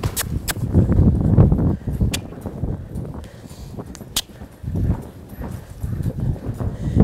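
A young colt walking with a rider on its back during a first ride, its hooves clopping in an uneven rhythm on the ground, close and moderately loud, with faint creaks and rustles between steps.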